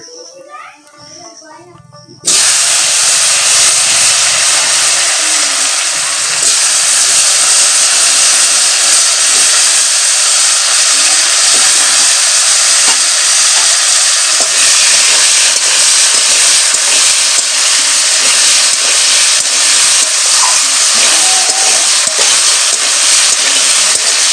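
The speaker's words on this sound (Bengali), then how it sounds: "এখন আলুটা ভাজবো এখন ঝটপট করে আলুগুলো দিয়ে দেই" Potatoes frying in hot oil for a potato and pointed gourd curry, a quiet moment giving way to a loud, dense, continuous sizzling hiss that holds steady to the end.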